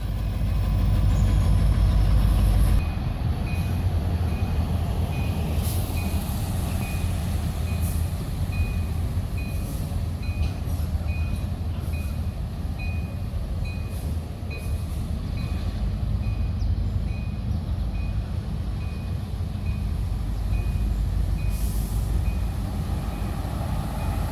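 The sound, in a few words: Norfolk Southern freight train pulled by two diesel locomotives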